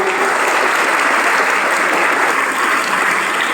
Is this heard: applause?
yes